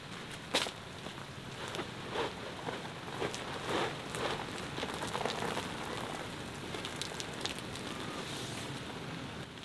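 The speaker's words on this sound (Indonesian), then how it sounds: "Mulai hujan, guys." Rain begins falling at a campsite in Kintamani, Bali, a steady soft patter of drops on surfaces with occasional sharper taps, fairly faint and continuous throughout.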